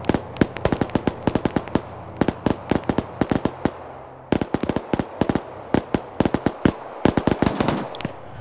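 Sustained suppressing gunfire in a military video game, loud sharp rapid shots in repeated bursts, close and dense, with a brief pause midway before firing resumes.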